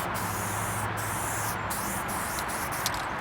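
A spray paint can fitted with a Green Ranger flame cap hisses in one continuous, close, loud burst of soft, broad spray with no pauses.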